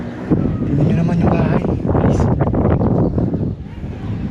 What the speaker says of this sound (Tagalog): ayan ang lakas ng hangin dito